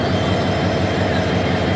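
A South Korean-built locomotive hauls the Subarna Express into Dhaka, giving a steady, loud low engine rumble that holds evenly throughout the short stretch.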